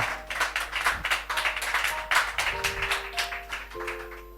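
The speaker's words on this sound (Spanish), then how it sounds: "¿Cuánto dan un aplauso al Señor por esto?" A church congregation claps during a Spanish-language sermon, giving rhythmic, fairly sparse handclaps at a steady beat over a low hum, with faint tones in the background.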